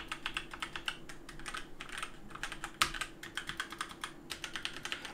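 Outemu Red linear mechanical keyboard switches typed in quick bursts, with crisp close keystroke clacks in an irregular rhythm and one sharper, louder strike near the middle, alone without talk.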